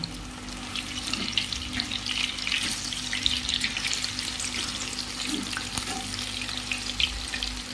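Fish pakoras frying in hot oil in a home kitchen, a dense, continuous sizzle and crackle held close and steady throughout, with no talking.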